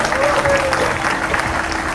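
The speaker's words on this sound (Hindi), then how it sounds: "मैं इनके लिए जोरदार तालियों से एक बार इनका स्वागत करें" An audience at a college gathering in Delhi gives a welcoming round of clapping, a brief, fairly loud burst of many hands with a faint tone and murmuring voices underneath.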